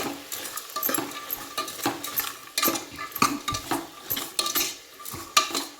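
A spoon stirs a chilli powder and turmeric spice mixture in a pan for a sprouts and onion masala curry, with close, irregular scraping and metallic clinks throughout.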